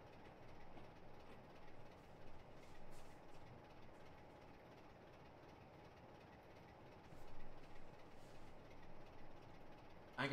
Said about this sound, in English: Yeah, a train's going by over there.